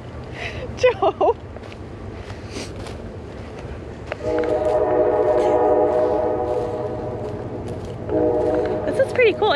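A loud train horn blares in two long sustained blasts over the steady rumble of a passing Halloween ghost train at Childsbury Town, Charleston, South Carolina, with people talking briefly near the start.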